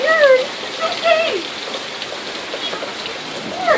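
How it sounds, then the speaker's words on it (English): Heavy rain falls steadily as a broadband hiss across the whole stretch, with a few chirping bird or squeaky calls and faint bits of voice over it. "the rain's coming down pretty good"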